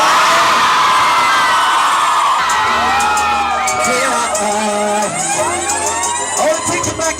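Crowd of children cheering, whooping and shouting together at a Kenyan gathering, loud and continuous with excited high-pitched voices throughout.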